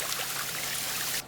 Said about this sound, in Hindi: तुम पहले केले के पेड़ों को पानी डालो।